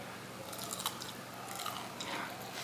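Crunchy smashed potatoes dipped in ketchup are bitten and chewed close up, with soft, irregular crackles and crunches spread quietly across the clip.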